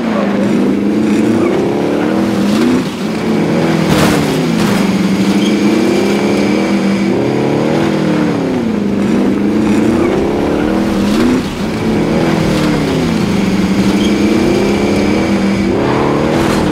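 A car driven in a video game, its engine droning loud and steady with repeated rising and falling revs as it accelerates and shifts, continuing without pause throughout.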